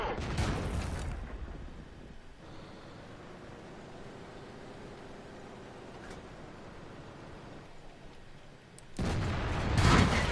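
Heavy tank cannon fire in the World of Tanks game: a loud, booming blast opens, a low rumbling lull follows, and a second powerful shot erupts near the end.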